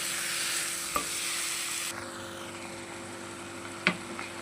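Hotel-style potato masala for masala dosa being stirred with salt in a pan, giving a soft sizzle that fades after a couple of seconds, broken by two brief spoon knocks.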